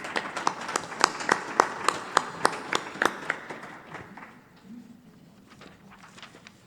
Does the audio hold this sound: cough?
no